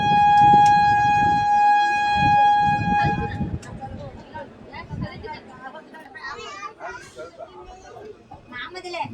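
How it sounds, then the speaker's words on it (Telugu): A passenger train pulls out of Gullepalyam station with a long, loud sustained horn blast, then the rumble and clatter of the moving train, with people talking over it near the end. "గూళ్ళెపాళ్యం నుంచి మన ట్రైన్ బయలుదేరింది."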